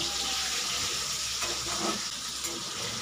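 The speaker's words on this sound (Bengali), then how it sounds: "এটাকে একটু ভাজি।" Prawns and cabbage fried in a pan for a Bengali cabbage and prawn ghonto, crackling in a continuous close sizzle with faint stirring scrapes mixed in and no talking.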